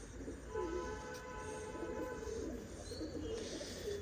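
A champion pigeon coos in soft, repeated low rolling calls over steady background hum and noise, fairly close and moderately loud throughout.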